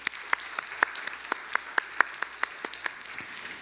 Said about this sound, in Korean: 잘 갔다 오라고 박수 한번 칩시다.